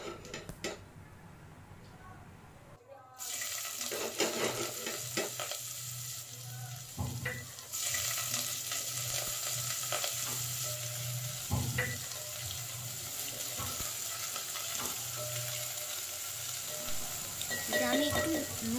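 Chopped onions drop into hot spiced oil and burst into a loud, steady sizzle that fills the room, with short clatters of stirring on top and a quieter crackle of spices heating just before.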